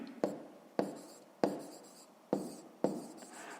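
Pen writing out a sum on paper for a fifth-grade maths exercise: five distinct scratchy strokes, each starting sharply and trailing off, evenly spaced and close up, with no talking.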